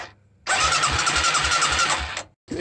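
Yamaha 200 motorcycle engine cranked with the start button, choke on: a steady, buzzing starter whir of about two seconds, then a brief pause before the sound picks up again.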